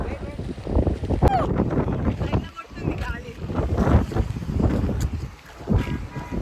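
Gusty wind at a dam buffets the microphone with a low, rumbling roar that rises and falls, and a voice is briefly heard through it.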